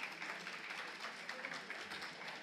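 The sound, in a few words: audience applause welcoming the speakers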